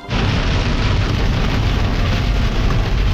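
Heavy rain pours in a dense, steady roar close by, continuous and loud from start to finish, during a cycling race in La Mancha.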